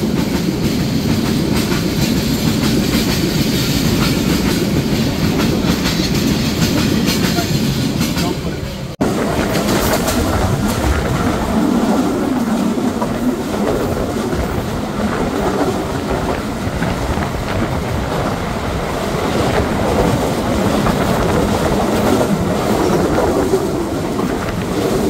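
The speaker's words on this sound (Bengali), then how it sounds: "কিছুক্ষণ পরেই দেখতে পাই ঢাকা থেকে ছেড়ে আসা রংপুরগামী আন্তনগর রংপুর এক্সপ্রেসকে।" The Rangpur Express intercity train, bound for Rangpur from Dhaka, rumbles loudly and continuously up close with steady wheel clatter, and the tone shifts partway through.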